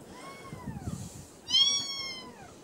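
Little kittens meow in a quiet room, two thin rising-and-falling cries, the second louder and closer, with faint rustling between them.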